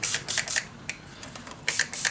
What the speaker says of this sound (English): I'm just going to spray around